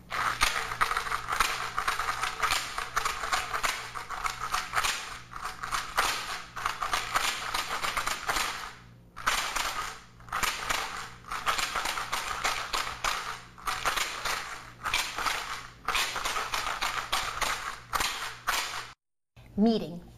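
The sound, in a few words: homemade plastic bottle shaker filled with pistachio shells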